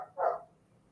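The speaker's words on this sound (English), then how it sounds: "You hear how loud he is, and he only barks at night." A neighbor's dog gives a single loud bark at night, a short burst standing out above a faint low hum.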